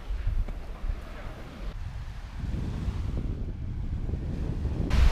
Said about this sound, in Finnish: Aaltoakin pukkaa.